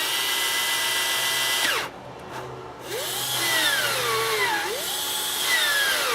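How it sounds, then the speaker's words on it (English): A corded drill powered through a mains adapter whines steadily at high speed, dips off briefly, then spins back up with rising and falling pitch sweeps as the motor load changes. "I can just take the same adapters, pull it out of there and switch over to a drill"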